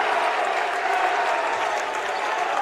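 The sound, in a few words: crowd cheering at a basketball game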